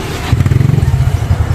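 A motorcycle engine rumbles loudly nearby with a steady, pulsing low throb as it rolls past.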